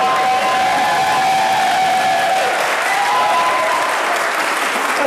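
Dense, steady applause from an audience at a panel discussion on Middle East challenges, loud and continuous throughout with faint cheering mixed in and no talking over it.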